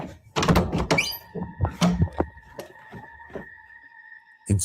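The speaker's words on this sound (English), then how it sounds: "the door opens and halts by itself before suddenly closing shut" A room door creaks in stuttering bursts as it swings open and halts on its own, then thuds shut, with knocks and a steady faint hum in between.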